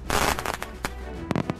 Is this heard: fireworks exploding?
yes